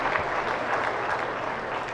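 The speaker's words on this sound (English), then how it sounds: "give this group another round of applause" A crowd at a 4-H and FFA beef steer show applauds a group of calves and their handlers, a brief steady burst of many hands clapping in an arena setting.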